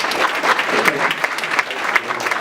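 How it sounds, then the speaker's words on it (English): A room full of people gives a lively round of applause, quick, crisp clapping at close range that holds steady throughout with scattered louder claps. "So give them a round of applause."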